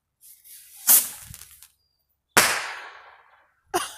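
Small consumer firework set off outdoors beside a house, giving several sharp crackling bursts and hissing fizzes that tail off without any big explosion, loud and close with no talking.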